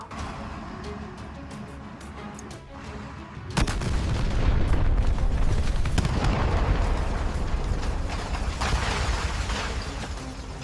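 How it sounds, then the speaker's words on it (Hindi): A hotel blows up in a film scene: a sudden loud blast about a third of the way in, followed by a long, heavy roar of rumbling destruction and debris that fills the rest of the clip, with no talk. "ये होटल भी उड़ा दो।"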